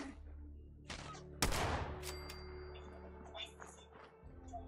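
Gunfire in the video game Fallout 76: a sharp, loud shot bursts out, then scattered smaller reports and clicks follow over a low hum, with a player talking quietly at moments.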